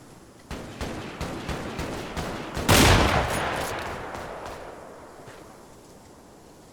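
Loud burst of rifle gunfire in the military shooter Arma 3 with the Antistasi mode and RHS weapons, a sharp crack followed by a long echoing tail, preceded by quieter scattered distant shots over an outdoor ambience.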